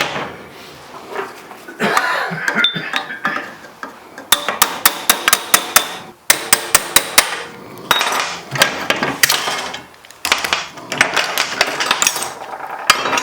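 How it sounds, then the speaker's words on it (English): Sheet metal is worked with a hammer and dolly at a metal bashing meet, giving bursts of rapid, sharp ringing taps in quick runs, separated by pauses with softer handling noise and some background chatter. "you could come back in, hammer and dolly, and kind of straighten it up a little bit, smooth out the edges"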